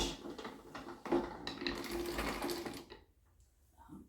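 A clay slab is fed through a pottery slab roller toward a quarter-inch thickness for a handbuilt berry bowl, producing close mechanical whirring and rumbling for about three seconds before falling quiet.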